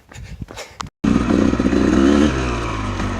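Dirt bike engine riding a forest trail, starting loud and close after a brief gap, holding a steady rough roar with revving that settles into a lower drone.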